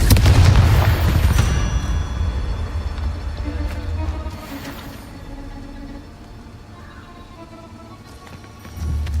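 In the video game Hogwarts Legacy, a Confringo blasting spell sets off a heavy booming explosion that rumbles loudly at first and then decays over several seconds, followed by a fresh low impact at the end, with a voice shouting spell names.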